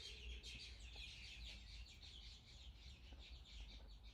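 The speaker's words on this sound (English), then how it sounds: "Can you hear those birds?" Small birds chirp and twitter outdoors in a steady, busy chorus, quiet and somewhat distant, with no voices over it.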